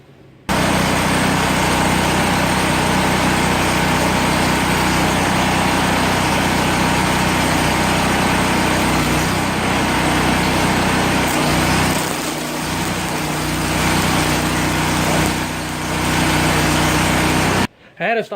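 A Hobart Champion Elite gas-driven welder generator engine runs steadily, loud and close, a constant high-pitched buzzing drone holding for the whole stretch with a brief dip near the end, no talking.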